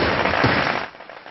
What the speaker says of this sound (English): a spark set off the rest of the fireworks in storage, leading to this scene.